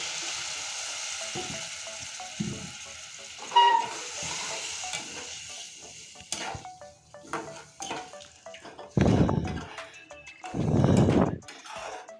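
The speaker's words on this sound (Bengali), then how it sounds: "মশলাটা পুড়ে না যাবে তার জন্য আমি জল দিয়ে দিচ্ছি" Water poured into frying masala for a fish and potato biryani, a hiss and sizzle with stirring clatter, then two loud bursts of spluttering sizzle toward the end.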